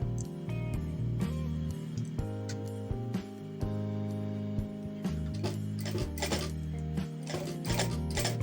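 A sewing machine runs steadily while stitching bias binding onto fabric, its motor humming with a fast mechanical tick over a low drone for the whole stretch, at close range with no talking.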